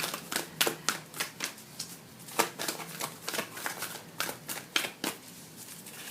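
Fortune-telling cards are shuffled and riffled in a steady series of crisp, close flicks and snaps, repeated bursts coming every half second or so at moderate loudness with no voices.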